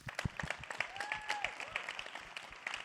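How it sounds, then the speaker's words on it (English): Audience applause for a business conference panel, a brisk, moderately loud burst of many hands clapping in a hall for a few seconds. "All right, give them all a round of applause."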